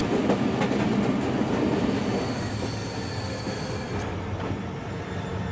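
The Tista Express intercity train from Dhaka to Joydebpur slows on a yellow signal near the Tejgaon station outer, its loud carriage rumble easing gradually while a thin wheel squeal and clatter linger, with no talking.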